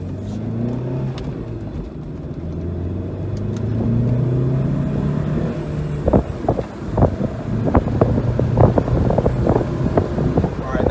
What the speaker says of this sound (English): All right, so I'm going to do a little bit of an acceleration test here.